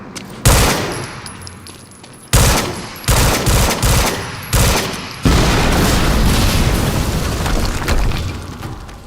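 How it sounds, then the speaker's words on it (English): In the video game Quantum Break, loud booming explosions and bursts of gunfire hit in a string of sharp blasts, each followed by rumbling decay, ending in a sustained roaring blast. "we just heard an explosion near the harvesting perimeter"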